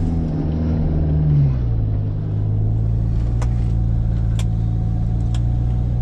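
A coil-converted Toyota Hilux N70 climbs over hills and mounds, its engine giving a loud, steady drone that dips in pitch as it shifts load, with a few sharp knocks from the suspension or body.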